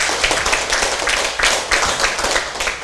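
An audience at a Taiwanese seminar class claps in a brief, fairly loud round with an uneven rhythm and no talk over it.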